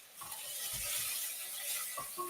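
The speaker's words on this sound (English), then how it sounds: "Right, I'm sizzling. We're good. We're sizzling. So, onions are going." Onions sizzling in a hot pan while Nigerian beef skewers are being cooked, giving a steady close-up hiss and crackle with a few faint clinks, and no talking.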